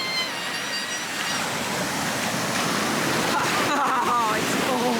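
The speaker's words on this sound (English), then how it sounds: "this barely has any waves at all, so the world's safest beach" Calm, small ocean waves at Carpinteria beach in California wash in a steady, broad hiss, close and continuous, with a voice briefly speaking over it near the end.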